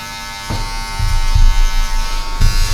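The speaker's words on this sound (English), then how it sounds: "just moving your hands quick, using the last three blades on your clipper" An electric hair clipper buzzes in short passes while cutting a design fade, a close steady hum that swells and dips as the blades move quickly through the hair, with no talking.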